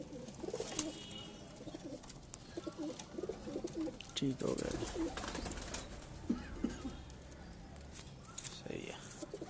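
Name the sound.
pigeons cooing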